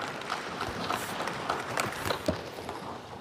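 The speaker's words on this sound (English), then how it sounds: "Give her a round of applause." Scattered applause at a Gambian constitution convergence gathering as a woman is called to the stage, uneven claps with a few sharper nearby hits over a busy room, moderately loud and loosely rhythmic.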